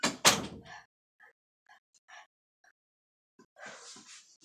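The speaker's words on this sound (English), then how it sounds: "You gotta shut the door." A door swings shut with a loud, close thud at the start, then a few faint knocks and shuffles follow before a short burst of clatter near the end.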